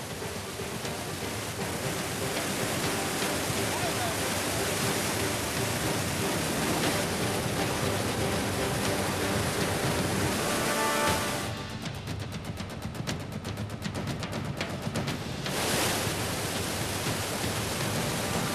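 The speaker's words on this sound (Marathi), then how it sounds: "मोठ्या प्रमाणात सध्या पाण्याचा विसर्ग सुरू आहे." Water from the Nandur Madhmeshwar dam pours through five radial gates into the Godavari River, making a dense, unbroken roar that stays loud throughout and shifts slightly in tone partway through.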